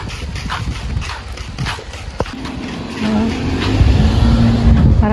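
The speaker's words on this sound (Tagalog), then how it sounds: "Marami na rin mga sasakyan dito" Traffic rumbles along a road near Balon Falls, with a steady wash of passing vehicles, a sharp knock partway through and a heavier engine drone building toward the end, fairly close and loud.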